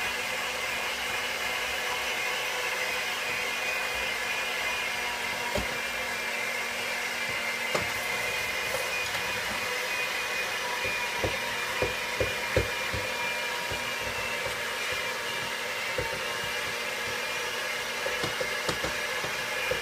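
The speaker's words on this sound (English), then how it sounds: "I'm going to blend that together with my whisk attachment." A stand mixer with a whisk attachment beats a cup of powdered sugar into a stick of butter, giving a steady, continuous motor whir with faint scattered clicks throughout.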